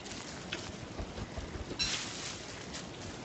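Rain falls in the survival video game Don't Starve as a steady, soft hiss, an even wash of noise with small rises, heard alone at low volume.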